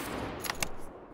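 Gunfire from a shotgun in the video game Lost Light, a couple of sharp, close reports standing out over a dense, noisy game background.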